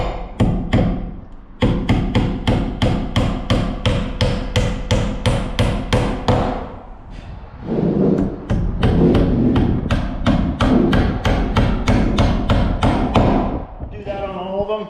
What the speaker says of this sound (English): nail into each one of these studs, because these things are substantially strong